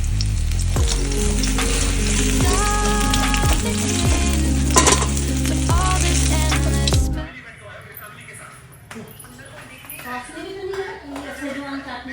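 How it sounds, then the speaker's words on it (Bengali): Oil sizzles loudly and steadily in a hot wok with stirring and pan clatter, then drops abruptly to a much quieter background with faint kitchen sounds partway through. "এখানে কড়াই গরম হয়ে গেছে, তেল দিয়ে দেবো।"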